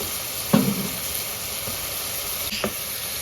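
Masala with ground coriander and kasuri methi sizzles in hot oil in a pan, a steady close frying hiss broken by two brief scraping stirs.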